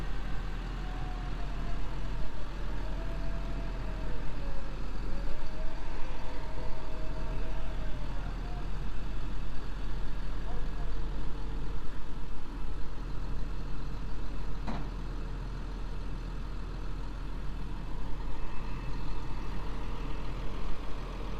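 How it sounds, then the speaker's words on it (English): Heavy tow truck engine idling and rumbling steadily at moderate distance while offloading a 1955 Chevrolet Bel Air with a 350 engine, a low continuous drone with faint shifting whine and one brief metallic clank. "We got Eddie Peters towing, offloading this for us"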